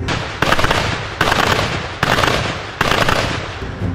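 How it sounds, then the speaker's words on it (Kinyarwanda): Heavy bursts of gunfire crackle during M23 fighting near the Congo–Rwanda border in eastern Congo. Four loud, rapid volleys each last under a second, separated by short gaps, sharp and close with a rattling decay. "urusaku rw'imbunda nk'izi rusa n'urwabaye urusanzwe rwose"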